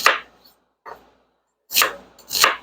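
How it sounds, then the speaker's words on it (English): A knife chops half a medium onion into chunks over a board, heard as four crisp, close strokes: two spaced taps, then two louder cuts near the end, with silence between. "Cut that into chunks."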